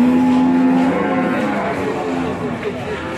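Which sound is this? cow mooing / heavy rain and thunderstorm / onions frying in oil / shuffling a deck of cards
cow mooing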